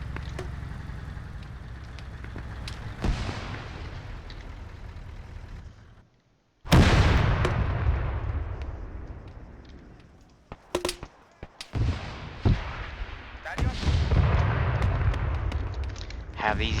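Arma 3 combat: bursts of gunfire and heavy booms from tanks and artillery rattle in loud clusters, broken by a brief silent gap, with voices talking over parts of the firefight.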